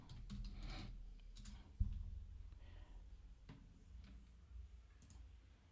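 Keys clatter on a computer keyboard as a command is typed, a quiet run of uneven clicks with one firmer tap partway through, heard up close in a quiet room.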